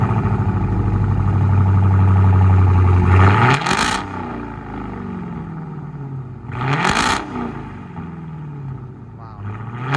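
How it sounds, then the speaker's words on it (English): Supercharged Dodge Challenger SRT Hemi, 2020, with all four mufflers deleted and straight pipes: a loud, rumbling idle punctuated by two sharp revs that rise and fall, each followed by a descending engine note. "Dodge Challenger SRT, the big Hemi in there. Supercharged, no mufflers."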